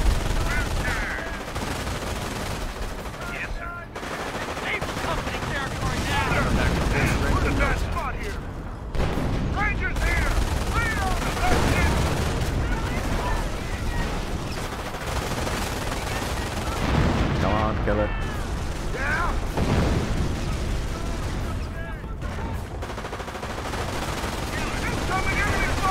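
Sustained machine gun fire and battle noise from the World War II strategy game Company of Heroes, American campaign, dense bursts running through the whole stretch with explosions mixed in, loud and continuous beneath occasional voices.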